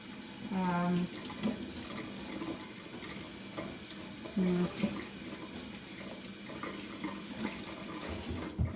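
Running tap water pours steadily while unpeeled potatoes are scrubbed beneath it, with a couple of brief louder splashes and faint voice-like sounds in the background.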